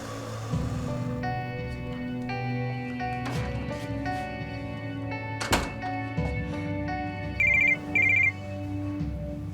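A telephone ringing unanswered indoors, a tonal electronic ringtone repeating in bursts with a couple of dull thunks mixed in, moderately close.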